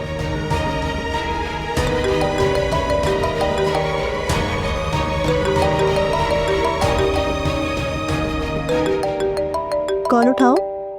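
A melodic phone ringtone plays for an incoming call, its repeating tuneful notes steady and clear, with a warbling flourish near the end.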